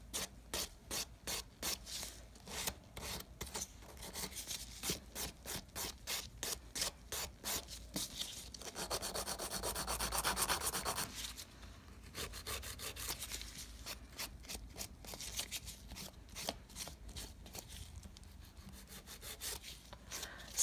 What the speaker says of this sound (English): So once you've completely filed off the dispersion layer, then you can buff and shape this nail like a traditional acrylic nail.